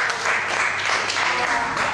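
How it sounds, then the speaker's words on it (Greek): Applause at a Greek pro wrestling match during a tournament quarterfinal, a steady dense clapping wash filling the arena for the whole two seconds, loud and continuous without pause. "Το Ντάντζον απλά χειροκροτάει"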